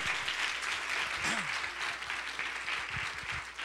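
A church congregation applauds the Lord for the whole stretch, a steady broadband clatter of many hands at moderate level. A voice briefly rises and falls over it once.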